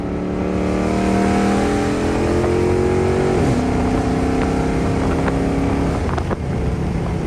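A Dodge Charger 392, a rebuilt second-generation car, roars loudly and steadily as its engine revs and drops pitch through successive downshifts, with sharp blips between gears and no talking.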